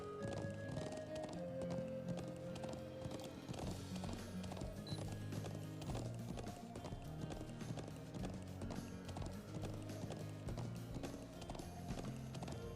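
Horse hooves clip-clop steadily as a rider moves on a white horse in the video game Trails of Cold Steel, a quick even rhythm of hoof taps over game music.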